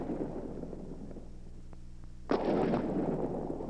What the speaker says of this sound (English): The salute gun platoon uses 75mm cannon to provide the traditional salute honoring national dignitaries, military leaders, and visiting heads of state.